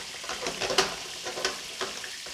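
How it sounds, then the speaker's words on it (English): Yellow onions cut into half moons and salted sweat gently in a pan, a soft continuous sizzle with faint stirring scrapes and a few brief louder crackles, close up with no talking. "I'm going to let the onions sweat a little bit"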